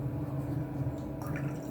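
Soft vinegar pouring and dripping into water, faint and brief, with gentle splashy trickles over a low background hum.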